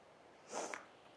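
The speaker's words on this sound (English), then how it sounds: "I'm going to be sniffling probably the whole time." A single quick allergy sniffle sounds close to the microphone but quiet, with a soft hiss of room noise around it and no speech.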